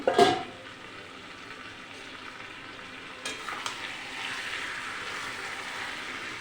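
Chicken for a Bengali raw-mango chicken dish being stirred and cooked in a pan, opening with a sharp clatter and then settling into steady sizzling and soft scraping, close and moderately loud.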